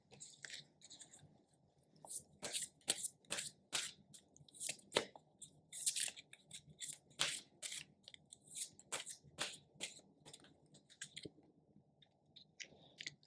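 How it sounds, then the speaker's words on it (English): Tarot cards being shuffled up close, a rapid series of crisp riffling snaps and slaps in uneven bursts over a quiet room hum, with no talking. "now I will pick a card for this week's energy"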